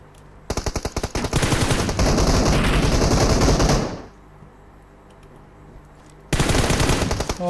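Rapid automatic gunfire from the mobile battle-royale game PUBG Mobile rattles in a long, loud burst that stops abruptly, followed by quiet and then a second burst, with no voices.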